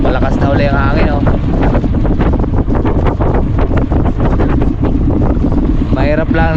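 Strong wind buffets the microphone aboard a small fishing boat at sea, a loud, roaring, continuous gust noise, with a voice briefly heard at the start and end.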